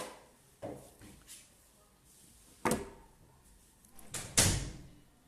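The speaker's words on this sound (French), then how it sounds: "Et vous fermez toutes les portes parce que je vous entends jusqu'ici." Doors shutting in an indoor space, several separate thuds and bangs spread out over a few seconds, the last one the loudest and closest, with no one speaking.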